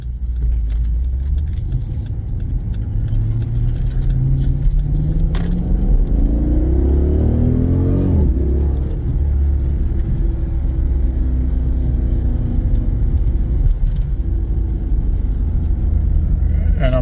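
A car engine hums and rises through the gears on a road test in track mode, exhaust held, with loud steady cabin rumble, engine pitch climbing and dropping as it accelerates and shifts, plus small rattles.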